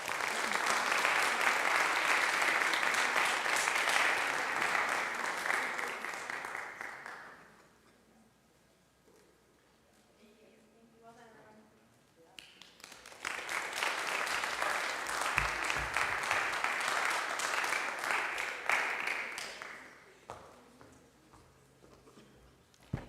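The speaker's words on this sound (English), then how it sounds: "One more round of applause." A college audience at a literary gathering claps in a dense, loud burst that fades out, then after a quiet pause a second sustained round of applause swells and tapers off.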